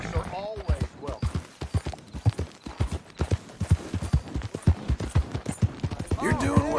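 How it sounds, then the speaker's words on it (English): Horse hooves clip-clop in a steady walking rhythm in the Red Dead Redemption II epilogue, close and fairly loud, running beneath ongoing dialogue between characters. "You and that horse are always welcome."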